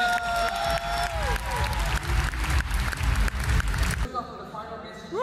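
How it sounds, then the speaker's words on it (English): An audience claps for an award winner at an eXp Realty South Africa agent-of-the-year event, lively applause with scattered cheers and some talk mixed in, before it cuts abruptly to quieter sound near the end. "Another round of applause for you."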